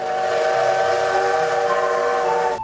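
A steam locomotive whistle blows as a long, loud, steady chord in a Taiwanese radio drama sound effect, holding for nearly three seconds before cutting off.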